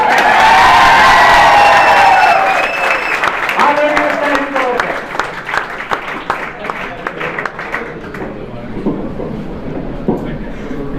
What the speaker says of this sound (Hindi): एक बार जोरदार तालियों से